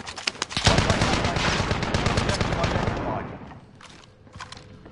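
Rapid bursts of automatic gunfire in a PS4 shooter game ring out loud and close, forming a dense volley that fades after a few seconds into quieter scattered shots.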